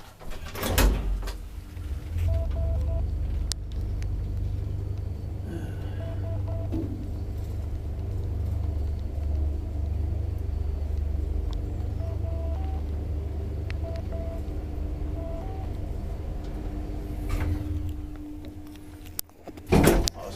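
An old Kone traction elevator in a seven-floor building in Lahti starts with a door clunk, then hums along with a steady low motor drone and faint electronic chimes before the doors knock again at the end.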